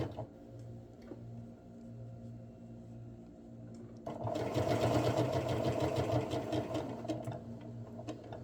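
A domestic sewing machine sews a seam on a sweater, a soft ticking hum at first before the motor kicks in loudly halfway through and keeps up a fast, steady mechanical chatter.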